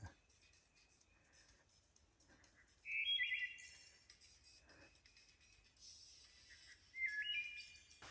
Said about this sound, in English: There's a loud bird.